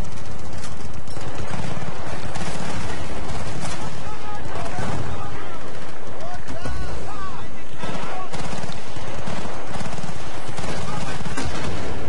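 Loud, dense bursts of gunfire and explosions in the video game Battlefield: Bad Company 2 crackle continuously, heavy and chaotic, filling the whole stretch with little pause, a voice occasionally buried underneath.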